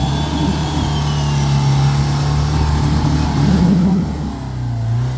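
A car engine revs and labours steadily, its tyres misaligned and pointing inward, with a low droning tone that rises and strains near the end; no talking.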